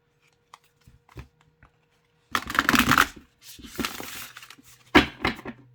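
A deck of healing-themed cardstock cards is handled and shuffled up close: a few light taps and clicks, then bursts of riffling, flapping card noise in uneven runs with short pauses between.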